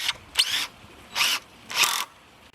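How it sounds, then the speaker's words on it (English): A power drill driving screws to fasten a wooden cap block onto two uprights of a homemade e-bike carrier, with three short whirring bursts separated by pauses, close and fairly loud. "Move your lower cap block into position and screw it to the"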